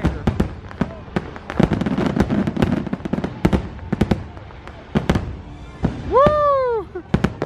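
Magic Kingdom fireworks bursting at Disney, a rapid string of sharp loud bangs and crackles at varying distances, with crowd noise, whistling shells and a brief cheer mixed in.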